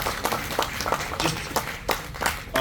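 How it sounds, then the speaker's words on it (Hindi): Audience applause for Professor Joshi at an Ayurveda conference at Raj Bhavan, Dehradun: fairly soft, scattered claps from a crowd, continuing unevenly for a few seconds. "एक बार जोरदार तालियां बजाइए जोशी सर के लिए"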